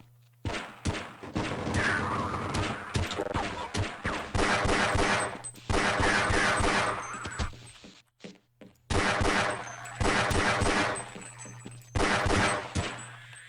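Gunfire in the Half-Life video game, long dense bursts of rapid automatic shots with some louder single bangs, packed together at close range with only short pauses between volleys.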